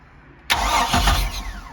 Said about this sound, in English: See, I bumped the engine over just by touching this right here.